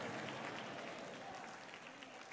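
A church congregation claps during a sermon, producing a faint, distant patter of many hands that stays soft and even before a brief louder burst at the very end.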